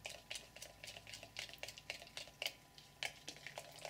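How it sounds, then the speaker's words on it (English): Homemade shampoo ingredients being stirred in a bowl, giving a steady run of soft, quiet scraping and tapping strokes at a brisk, even rhythm, close by with no voices. "Again, we need to mix these ingredients well."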